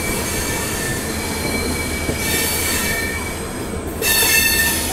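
The Saket Express rolls through Nashik Road railway station, a loud continuous rumble of wheels on rails with sustained high-pitched wheel squeal that swells near the end, heard close by without talking.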